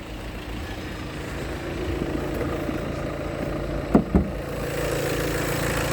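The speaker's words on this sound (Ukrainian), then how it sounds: "дам послухати, як працює двигун" A 2020 Volkswagen Tiguan Allspace 2.0 TDI diesel engine idles steadily nearby under an open hood with a low, constant rumble, broken by two brief knocks or clunks near the end.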